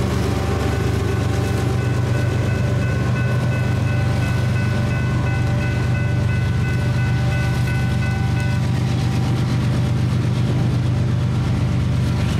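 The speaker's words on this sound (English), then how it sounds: "Bringing up the rear of the train is a Kansas City Southern Gevo." A Canadian Pacific freight train rolls past with a Kansas City Southern GEVO locomotive at the rear, a loud continuous rumble of wheels and cars with steady engine drone and a faint squeal throughout.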